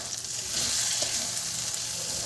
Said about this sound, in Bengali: এই যে মশলাটা আমার ভাজা হয়ে গেছে